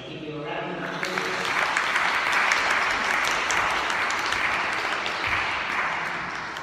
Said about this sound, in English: we would like to say a huge well done to Liz and give you a round of applause